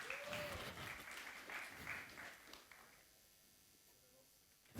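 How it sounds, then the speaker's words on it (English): Conference audience at aeternity Universe One claps for a developer taking the stage. The applause is faint and distant, holds for a few seconds, then tapers into near silence. "please, round of applause"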